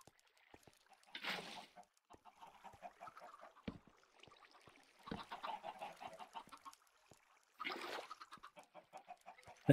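A flock of Minecraft chickens clucks in short repeated bursts with small pops and clicks in between, quiet and fairly close, with no talking.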